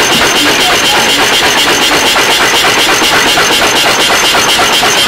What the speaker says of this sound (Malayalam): അങ്ങനെ അട്ടി വെച്ചതിനെ ഇതുപോലെ കൃത്യമായി കട്ട് ചെയ്യുന്നതാണ് അടുത്ത പരിപാടി.